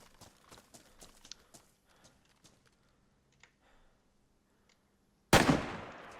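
Light clicks and taps lead up to one sharp, loud rifle shot near the end in the video game DayZ, and its echo fades after it.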